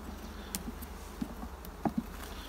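Honey bees around a hive split near a honey super, a faint low buzzing drone with a few brief bumps and taps, steady and without speech.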